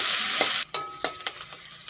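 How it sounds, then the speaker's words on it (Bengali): Ginger garlic paste frying with onions in hot oil gives a loud, continuous close sizzle, broken by a few sharp scraping stirs and clicks of a spatula against the pan. "পেঁয়াজের সঙ্গে আদা রসুন বাটাও ভালো করে ভেজে নেব"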